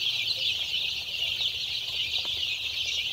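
A flock of 10-day-old clay-pot chicks on a Can Tho poultry farm peeps and cheeps in a dense, continuous, high-pitched chorus, close by and without pause.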